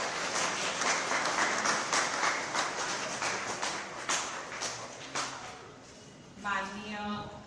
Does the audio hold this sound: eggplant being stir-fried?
no